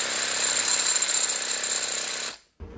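Model paint bottle shaken hard with a 30 mm socket rattling inside, a loud, rapid, continuous clatter close by that stops abruptly near the end, followed by a brief faint knock.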